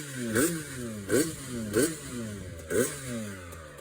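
A restored custom motorcycle trike engine revs in four sharp blips, each throttle burst rising and falling against a steady idle, close and moderately loud with no talk.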